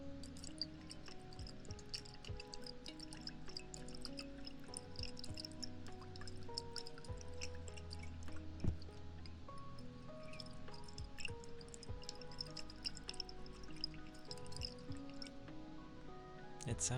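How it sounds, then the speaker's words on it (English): Water drips and sloshes inside a water jar in a quiet, close setting, with a steady patter of small droplets and gentle liquid movement continuing throughout. "You can hear the water in the jar."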